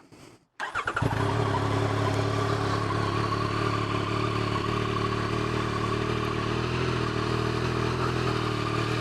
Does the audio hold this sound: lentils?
no